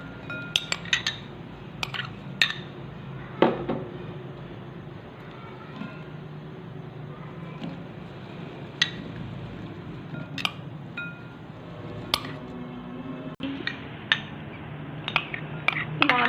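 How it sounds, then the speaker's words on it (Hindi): Beans go into a bowl for a protein bean salad, heard as scattered light clinks and taps of utensil against dish spread over a quiet kitchen background, fairly faint and irregular. "सबसे पहले हम बाउल में बीन्स डालेंगे"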